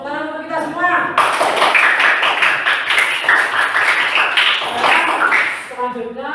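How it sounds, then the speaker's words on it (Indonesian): A classroom group of children claps together in a loud, rapid burst lasting about four seconds. An adult speaks before the clapping starts and again after it stops. "Tepuk tangan untuk kita semua."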